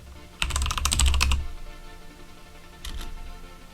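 Keys tapped quickly on a computer keyboard while entering a password for maintenance on an IBM mainframe setup: a dense burst of clicks for about a second, then a brief second flurry of keystrokes, close and fairly quiet.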